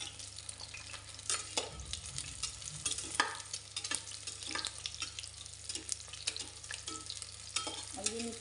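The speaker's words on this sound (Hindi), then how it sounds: "ये हमारा अंडा अच्छे से फ्राई हो जाएगा।" Egg and potato sizzle and fry steadily in hot oil in a pan for an egg-potato curry, with a continuous crackling hiss and a few louder stirring scrapes and spatters close by.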